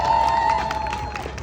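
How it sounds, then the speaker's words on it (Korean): Crowd clapping and cheering at an outdoor Korean election campaign support speech, a steady, dense wash of applause over the full length with faint voices mixed in. "박수 한번 쳐주세요."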